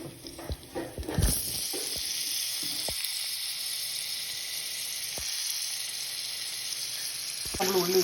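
Sliced onions fry in oil in a pan, a steady hiss and crackle after a few clattering clinks as they go in, sizzling evenly at close range with no talking.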